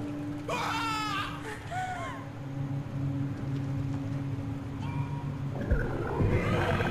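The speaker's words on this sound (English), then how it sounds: "So LT is a roar," In the video game Carrion, the monster lets out rising and falling guttural roars and warbling growls, some near and loud and some fading, over a low ambient drone.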